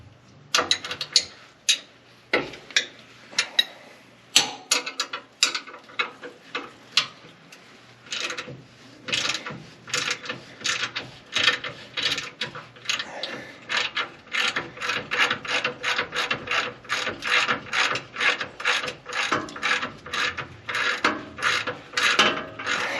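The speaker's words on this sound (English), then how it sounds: "we're going to loosen the transmission crossmember mount" A hand ratchet loosens transmission crossmember mount bolts under a vehicle, first with scattered clicks, then with long runs of quick, even ratcheting close by.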